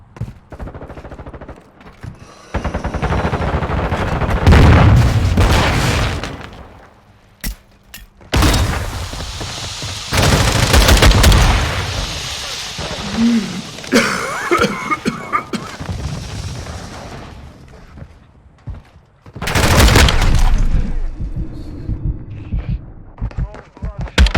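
Rifle fire in a Modern Warfare 2 team deathmatch comes in loud bursts and rapid volleys with booms, separated by pauses, while a player talks over parts of it.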